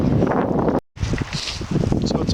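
Strong wind at a lake buffets the microphone in loud roaring gusts, broken by a brief dropout, with rustling underneath and no talk.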